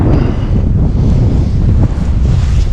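Strong wind buffets the microphone out on Star Lake during a bass fishing trip, a loud, steady low roar with gusty rumble throughout and no voices.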